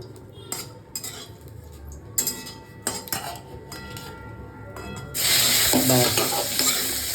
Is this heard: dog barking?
no